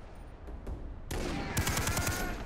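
Gunshots in the Far Cry 3 video game: a few scattered shots at first, then a sudden loud burst of rapid automatic fire with sharp repeated cracks near the end.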